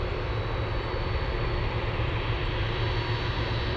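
A heavy Boeing 767 converted freighter roars continuously on its takeoff run from runway 33 at Anchorage, a loud, steady broadband engine rumble and whine with no voices.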